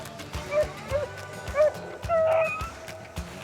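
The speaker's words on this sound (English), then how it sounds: "That sound of those beagles opening and chasing those rabbits just rings through these hollers." Beagles bay and yelp in short, repeated rising cries while running rabbits through wooded hollows on a winter hunt, the calls fairly close and carrying over a busy field background.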